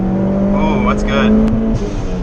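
A Mitsubishi Evo 3 with a big turbo and ethanol fuel is driven at full throttle on the street, heard from inside as a loud engine drone rising in pitch, with voices talking over it.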